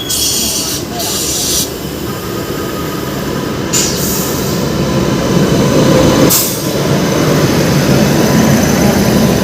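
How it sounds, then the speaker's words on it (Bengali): The Puri–Howrah Superfast Express rushes past at a crossing in a steady, loud roar of rail noise lasting the whole stretch, with brief high-pitched bursts and clatter rising and falling as the carriages go by. "Puri Howrah superfast express."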